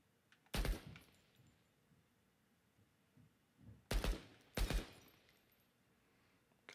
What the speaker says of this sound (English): Reload your weapon and press the fire button to shoot the target.